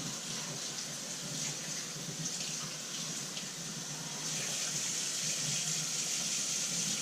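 Tap water runs steadily over leeks in a metal strainer, a close, even splashing rush that holds for the whole stretch without talk.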